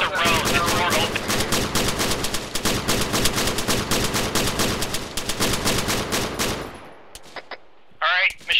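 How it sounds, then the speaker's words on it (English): Sustained machine gun suppressive fire in the Arma 3 video game, loud rapid bursts of shots running continuously for about seven seconds, then stopping abruptly, followed by a short gap and a brief sharp noise at the end. "Machine gunners, use your suppression!"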